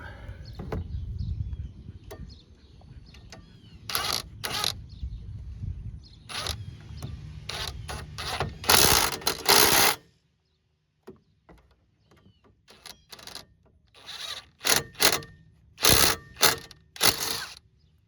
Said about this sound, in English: take your impact gun and tighten these back up